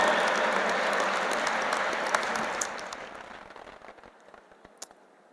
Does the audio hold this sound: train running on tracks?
no